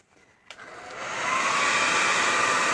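A hair dryer switches on and blows steadily, close and loud, drying chalk paint on a small stool; a short click comes first, then the airflow builds into a continuous broadband rush with no talking.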